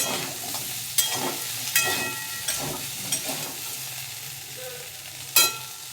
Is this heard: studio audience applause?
no